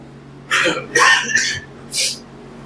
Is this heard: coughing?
yes